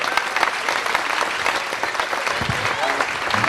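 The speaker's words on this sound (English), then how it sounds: "A great round of applause for 4 great couples once again." Audience on board a cruise ship applauding four couples at the end of a newlywed game show, a lively burst of many hands clapping with scattered crowd noise mixed in, loud and sustained.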